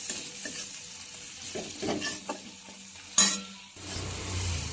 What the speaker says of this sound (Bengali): এবার এই মশলাটা একটুকু ভেজে নিচ্ছি।